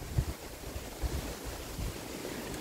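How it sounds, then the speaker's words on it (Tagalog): A strong, cold autumn wind buffets a garden at harvest time, a low, rumbling roar with gusty thumps against the microphone, steady and fairly loud with no voices. "Ang lakas ng hangin."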